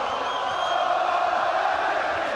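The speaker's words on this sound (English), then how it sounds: "We weren't sure if the crowd was going to be loud," A loud arena crowd roars steadily at a heavyweight boxing rematch, a dense, continuous wash of cheering and shouting that never lets up.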